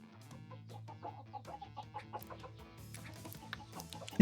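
Chickens clucking in a farming camp video game, a run of soft, irregular clucks and murmurs at a steady low level, ending in a brief louder burst.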